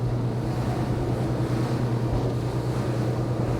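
Robust beam winds buffet a Schaefer V33 motorboat on a sea trial, a steady, loud rush of wind noise over a low engine hum and splashing water, continuous with no talk.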